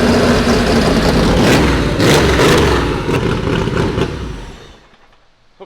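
A Porsche 964 engine runs at its first start-up after work, a loud, rough air-cooled roar with uneven revving that drops off and cuts out near the end, leaving brief quiet.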